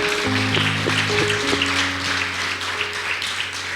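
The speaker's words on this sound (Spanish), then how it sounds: "Démosle un aplauso a Dios por esas bellas madres que están aquí" A church congregation applauds for the mothers at a service, a steady broadband wash of clapping that fills the whole stretch, with sustained musical tones from instruments or voices layered underneath.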